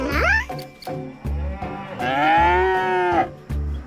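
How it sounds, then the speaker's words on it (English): A cow moos loudly and close by: a short call, then a long, drawn-out moo, heard alone without talk. "That's the sound a cow makes."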